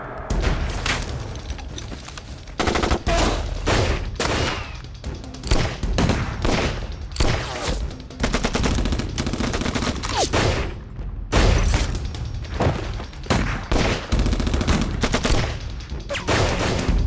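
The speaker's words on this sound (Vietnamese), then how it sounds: "chúng ta đã nổ súng rồi" Sustained machine-gun fusillade in a guerrilla battle scene, dense rapid bursts of automatic gunfire with heavy booming thuds, loud and close, continuing almost without pause throughout.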